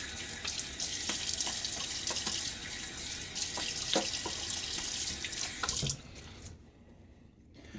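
A bathroom tap runs to rinse a shaving razor, a steady close splashing stream with a few clinks against the basin for about six seconds before it shuts off and quiet dripping remains.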